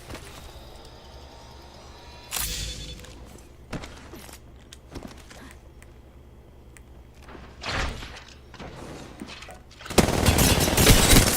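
Gunfire sounds in an Apex Legends firefight as scattered bursts of shots, some near and some distant, over quiet game ambience, ending in a loud, dense stretch of rapid fire.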